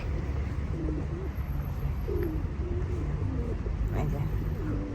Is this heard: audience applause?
no